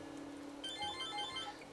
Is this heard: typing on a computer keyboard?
no